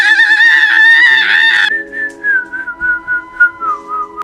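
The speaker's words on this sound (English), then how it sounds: "they hear this screeching sound and then this whistling" A shrill, wavering whistle holds loud and close, then drops into a string of thinner, fainter whistled pulses that come and go in a halting rhythm, with no talking.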